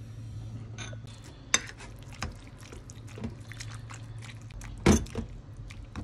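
Soft scraping and clinking of a utensil stirring food in a pot, with a few sharper knocks against the metal, quiet and close.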